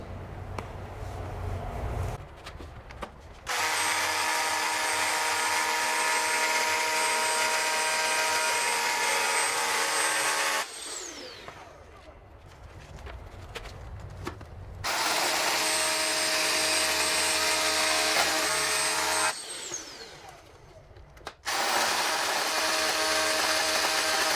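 A power drill making holes for home network cable runs loud and steady in two long bursts, whining at a constant pitch, with short pauses and lower rumbling between them.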